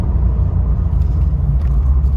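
A 1987 Ford Bronco engine is pushed hard on a straight stretch of road, heard from inside as a loud, steady low rumble of engine and road noise with no talking.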